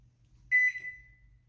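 A single short electronic beep from a microwave oven powering on, clear and tonal, rings out once against near silence before fading.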